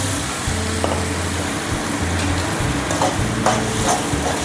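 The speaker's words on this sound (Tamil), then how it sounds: "வெங்காயம் இந்த அளவுக்கு வதங்கின பிறகு தக்காளியை சேர்த்துக்கலாங்க." Blended tomatoes poured in to fry with sautéed onions in a pan for idiyappam biryani, a steady close sizzle with some stirring scrapes and no talk.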